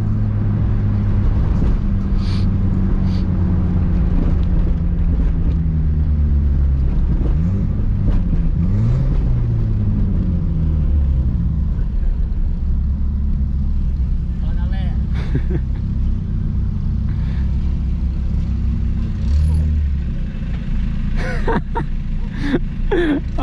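Modified street cars, including a three-stage Fiat Uno, rev and accelerate during a night cruise, a steady low engine drone with rising throttle sweeps under people talking.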